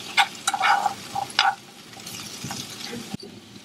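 Vegetables dropped into a hot pan with minced garlic, crackling and sizzling with scattered sharp pops and stirring scrapes, close and loud at first before settling into a softer fry.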